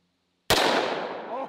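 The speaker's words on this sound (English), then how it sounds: "So this is my Magnum Research Desert Eagle chambered in 44 Magnum, and I'll be loaded up with some Underwood ammo, 240 grain jacket at hollow points." A single loud shot from a Magnum Research Desert Eagle chambered in .44 Magnum firing Underwood 240-grain jacketed hollow points, a sharp blast after a quiet moment, followed by a long ringing echo.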